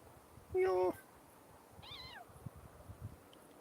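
A cat outdoors on a walk gives two short meows: the first loud and strained, the second softer and rising then falling, with quiet background rustle between.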